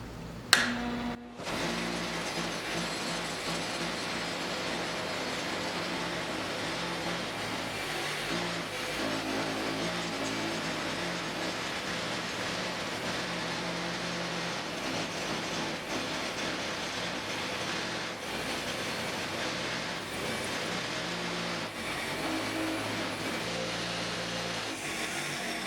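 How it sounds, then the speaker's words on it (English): Bolts and nuts from a 1972 Triumph GT6 restoration are pressed against a spinning wire wheel, a steady grinding whir that runs for the whole stretch with slight changes in load. "I'm gonna use my old method of cleaning the bolts on the wire wheel"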